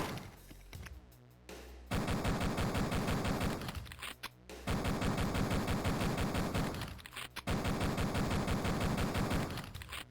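Gunfire from the video game Duke Nukem 3D rattles in three long, loud sustained bursts separated by brief gaps, dense and harsh with no voices over it.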